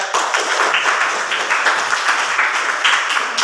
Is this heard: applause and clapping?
yes